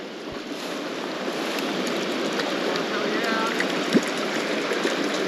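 A river flows with a steady, close broadband rush of moving water that holds even throughout, with one brief knock near the end.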